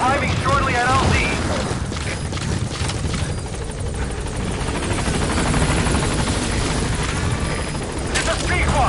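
Pequod helicopter from Metal Gear Solid 5 arrives at the landing zone with a loud, steady rotor thump and engine roar filling the whole stretch, while radio voices talk over it.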